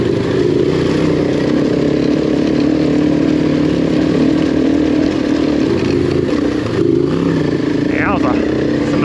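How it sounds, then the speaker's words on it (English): A KTM 790 or Husqvarna 501 adventure motorcycle rides through sandy desert washes in Arizona, its engine droning steadily and loudly close by, with a short rising rev near the end and speech faint underneath. "Bike sounds so good."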